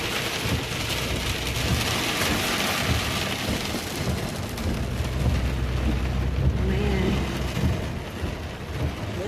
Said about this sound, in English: Storm's not letting up.